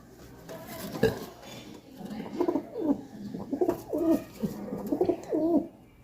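Caged local pigeons coo in soft, rolling repeated phrases close by, with a brief clatter near the start and faint background rustling.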